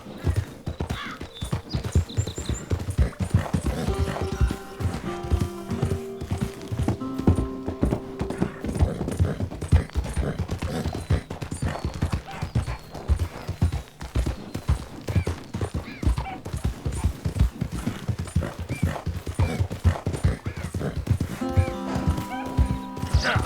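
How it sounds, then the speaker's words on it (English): A horse gallops in the video game Red Dead Redemption 2, with rapid, steady hoofbeats pounding continuously and close and an occasional whinny, while a person talks intermittently over the ride. "Come on, horse."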